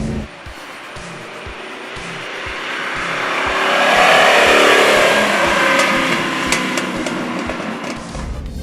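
A 1985 Lamborghini Jalpa's 3.5-liter engine revs up close and loud, pitch climbing as it accelerates, then holding at a strong roar.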